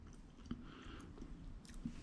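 Crunchy Weet-Bix being chewed up close, with soft repeated crunching and a few sharper bites over about two seconds, quiet and with no talk.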